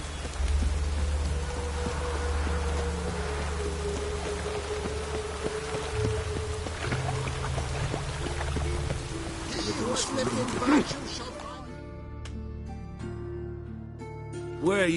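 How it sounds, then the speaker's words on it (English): Continuous rain patters in a town scene in The Witcher 3 game, a steady wet hiss with low rumble beneath, joined by talking voices and a few clattering sounds near the end. "I like rain. Keeps the rogues indoors."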